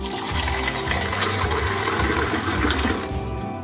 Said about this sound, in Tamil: இந்த மாதிரி ஒரு 5-6 தடவையாவது ஆற்றணும்.